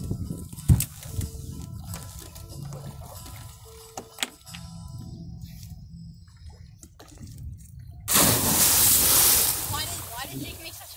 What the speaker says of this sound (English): Why did Jake make such a big splash?